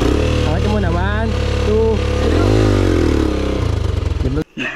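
A motorcycle being kick-started on a rough dirt road trip toward Dingalan, Aurora; the engine catches and runs loud and close with uneven revving, then cuts off abruptly near the end.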